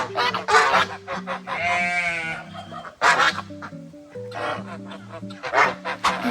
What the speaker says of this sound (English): let's see how the ducks like it